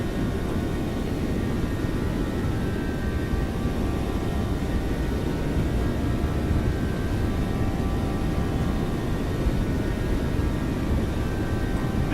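A Boeing 737 in the X-Plane 12 flight simulator roars at takeoff thrust, its jet engines giving a loud, steady broadband rumble with faint tonal whine that holds unchanged throughout, with no voices.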